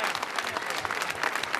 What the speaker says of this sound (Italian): Se cortesemente o sotto di piazza ci facciamo un applauso tutti insieme.